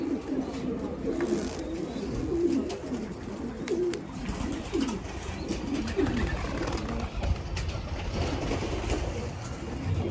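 Pigeons coo softly and repeatedly in a low, throaty rhythm, with murmuring voices and light background noise mixed in.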